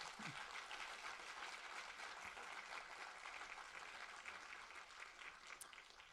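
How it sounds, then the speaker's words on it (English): Applause from an audience thanking a climate change policy panel, a steady dense wash of many hands clapping throughout, moderately distant and even in level, tapering slightly near the end. "Could you please give a round of applause to our panel?"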